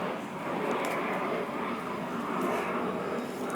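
An airplane passes overhead as a steady, broad roar that holds at an even level throughout, moderately distant with no other sounds standing out.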